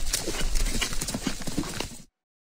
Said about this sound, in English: H as in horse